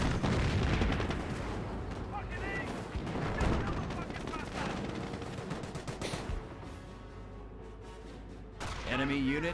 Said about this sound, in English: There's a pile of mortar hits there.